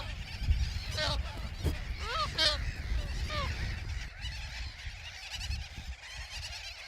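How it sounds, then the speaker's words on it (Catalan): Honking calls from a colony of avocets, gulls and terns in the Ebro Delta lagoon wetlands, several loud overlapping cries in the first few seconds over steady low wind and background noise, with a voice faintly present. "ara hi ha colònies de becs d'alena,"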